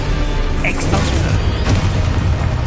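Expulso explosion spell cast in the Hogwarts Legacy video game, a dense continuous booming blast with crackling bursts layered over a steady low rumble, loud and close throughout.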